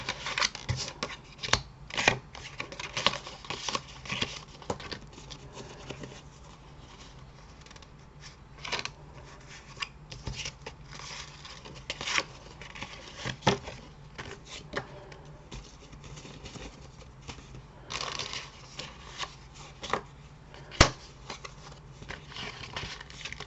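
Small paper cards handled for a vintage envelope and tag craft, with continuous close rustling, sliding and tapping of paper and a few sharper clicks.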